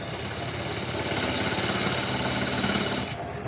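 A wooden workpiece spins on a wood lathe being trued up at around 1,000 rpm, giving a steady loud rasping, rubbing whir that holds for about three seconds and then cuts off abruptly.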